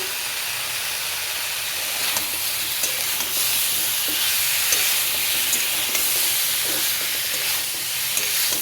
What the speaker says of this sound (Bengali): একটু জিরে দিলাম, কাঁচা লঙ্কা দেবো একটু পরে দেবো। কাঁচা লঙ্কা দিলাম